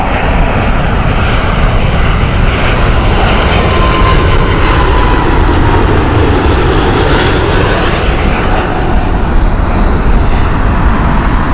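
OneWorld-liveried airliner at Heathrow Airport in thick fog, a loud continuous roar of jet engines that stays steady and close throughout.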